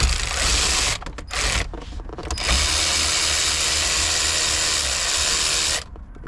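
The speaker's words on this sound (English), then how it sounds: "we're going to start off by ratchet wrench, 8mm" Ratcheting wrench with an 8mm socket, set to reverse, clicks steadily while loosening a fastener during a parts install on a 1998 Mustang Cobra, with brief pauses between bursts of fast, close, loud pawl clicking.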